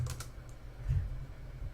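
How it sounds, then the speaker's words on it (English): A few quick keystrokes on a computer keyboard type a short chat message, with soft clicks near and low in level. Brief pauses separate the small groups of taps. "I'll type good luck."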